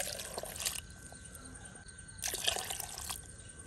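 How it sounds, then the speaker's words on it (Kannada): Water is poured into mango pulp in a jar or bowl, giving two short bursts of splashy trickling separated by a quieter pause, close and alone with no talking. "2 ಕಪ್ ಮಾವಿನ ಪಲ್ಪಿಗೆ 2 ಕಪ್ಪಿನಷ್ಟು ನೀರನ್ನು ಹಾಕುವ"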